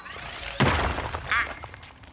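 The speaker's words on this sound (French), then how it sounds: "Il y a un mur à casser ici." A wall breaks apart in the video game Mario + Rabbids Sparks of Hope, a sudden crumbling crash of debris with a brief rattling effect after it, set against soft background game music.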